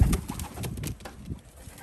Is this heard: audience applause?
no